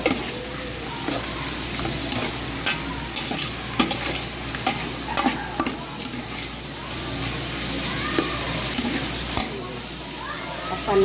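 Pork bouillon being stirred into a vegetable guisado in a pan, with a loud continuous sizzle and frying hiss under repeated close scraping stirs, with a faint voice in the background.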